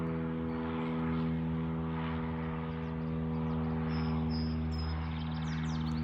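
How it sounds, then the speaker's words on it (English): Helicopter flying overhead, a loud continuous rotor and engine drone with steady low hum that swells slightly and persists throughout, no talk. "this fucking helicopter"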